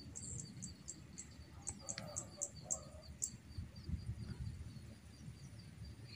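Wild birds call near a bird trap outdoors: a series of short, high, evenly spaced chirps, fairly faint, over a constant background drone of insects.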